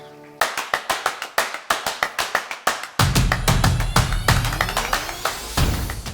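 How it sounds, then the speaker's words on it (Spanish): Church congregation claps during a Spanish-language service, beginning with sharp separate claps in an uneven rhythm, then swelling into louder, denser applause with a ringing tone underneath. "Dale un aplauso a Jesús"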